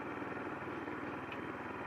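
A motorbike engine turns steadily at about 2,500 revs while rolling at walking pace, giving a faint, even low hum with no talking.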